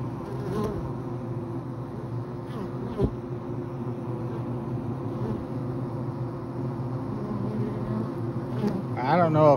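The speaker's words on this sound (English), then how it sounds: "they are sure coming and going from this hole." Honeybees buzz in and out of a hole in a tree, a dense, steady droning hum of many insects close by, with occasional louder passes near the microphone.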